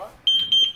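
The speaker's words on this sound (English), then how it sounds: "Garage door. That's the alarm." A house alarm's entry chime sounds as a garage door is opened, four short, loud, high electronic beeps in a steady run, near and clear.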